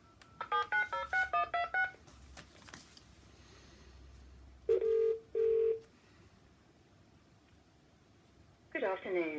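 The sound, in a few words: telephone dialing tones calling TV Licensing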